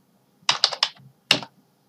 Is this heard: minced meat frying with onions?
no